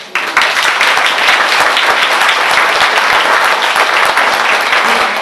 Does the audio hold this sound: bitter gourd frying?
no